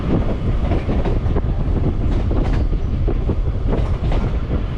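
A moving train on the Tiruttani to Chennai Central line rumbles steadily and close, with dense clattering wheel noise and some wind buffeting throughout, and no one speaking.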